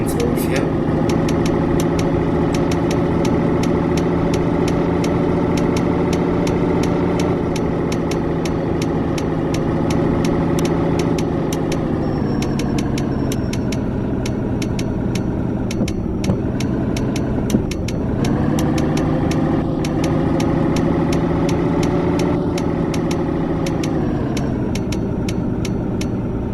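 A heavy truck's diesel engine idles steadily in Euro Truck Simulator, a loud continuous low rumble with a brief dip in revs partway through, running alone without talk.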